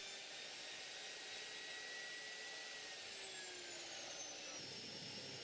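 A table saw with a sliding carriage runs through an MDF melamine panel, giving a steady loud whirring roar with a faint high whine that shifts pitch slightly near the end.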